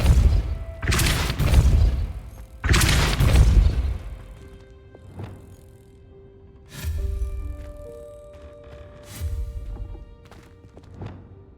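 Depulso spell impacts from the Hogwarts Legacy video game, a series of heavy thuds and crashing bursts, two strong hits early followed by softer thumps with ringing tonal tails.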